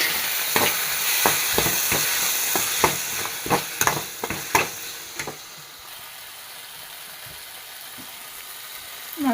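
Tomatoes fry with garlic and plenty of shallots in oil in a pan. A spoon scrapes and taps the pan in quick strokes over a constant sizzle, then the stirring stops and only a softer hiss is left.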